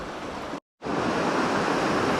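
River rapids on the upper Wye at Symonds Yat produce a steady, broad rushing roar of churning water heard from a distance, broken by a brief moment of total silence before the roar resumes.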